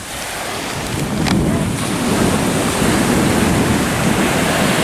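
Steady roar of surf washing onto a beach at Mataró, continuous and fairly loud, with a broad hiss of breaking waves and no voices.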